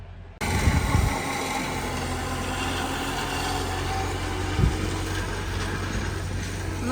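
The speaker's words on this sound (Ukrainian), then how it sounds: "в нас сусід викошує нашу цілину, яка дуже-дуже сильно позаростала нашою гірчицею посадженою" A tractor mows an overgrown field of uncultivated land thick with planted mustard, its engine droning in a steady, continuous rumble with a brief louder surge partway through.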